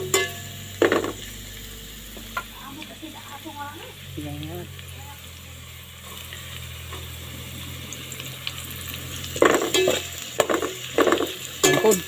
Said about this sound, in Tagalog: Igisa natin, guys. Para mabango.